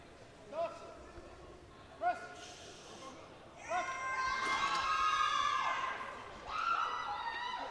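At a British powerlifting open, a crowd erupts into sustained cheering and shouting after a successful lift, preceded by a few sharp shouts of encouragement and building to a loud, dense roar.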